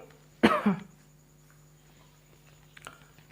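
A single sharp cough close by, followed by quiet room tone and a faint click near the end.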